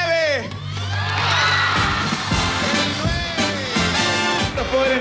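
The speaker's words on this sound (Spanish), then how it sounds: "¡Fuerte el aplauso!" A loud television studio audience on Sábado Gigante cheers and whoops with scattered shouts, energetic and continuous, with bursts of clapping and voices mixed throughout.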